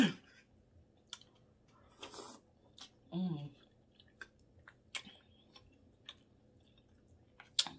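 Someone chews homemade Sunday dinner greens with soft, close, wet chewing and mouth clicks, in scattered bursts over a quiet room.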